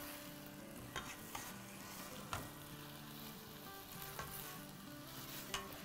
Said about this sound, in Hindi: थोड़ा बहुत हमने प्याज़ों को अदरक लहसुन और हरी मिर्चों को भून लिया है